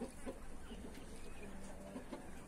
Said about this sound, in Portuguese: Aí eu soltei um pouco das galinhas,